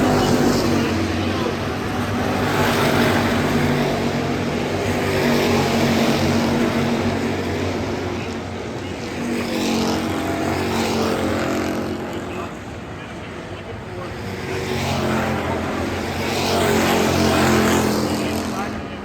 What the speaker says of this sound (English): Cody Warner down the front straightaway.